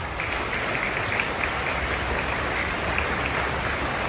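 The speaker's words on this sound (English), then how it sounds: "A big hand clap." Dense, steady clapping from an audience fills the air without a break at a school Independence Day celebration.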